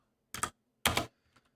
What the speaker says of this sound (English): Let's just type it out instead.